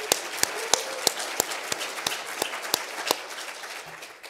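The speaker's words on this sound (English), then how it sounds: "Big round of applause for her." Applause at the iPres 2022 digital preservation conference for a poster award commendation, sharp, closely spaced claps from one nearby person stand out over softer, thinner clapping from a modest audience, tapering off toward the end.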